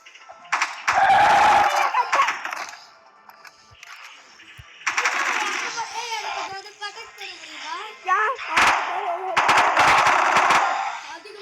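Gunfire in a video game crackles in several loud bursts over about eleven seconds, mixed with game effects while people talk excitedly throughout.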